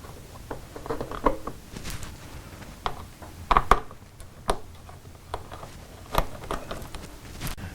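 Bolts being loosened with a 4mm Allen key from the radiator shroud of a Sherco dirt bike, sharp intermittent metallic clicks and ratcheting taps with quiet pauses between them, close by.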